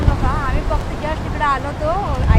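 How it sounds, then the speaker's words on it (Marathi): Strong wind off the rough Arabian Sea on the Konkan coast buffets the microphone in heavy low rumbles, while a person talks over the gusts. "खतरनाक वारा म्हणजे एवढा की पुढे जाऊ शकत नाही."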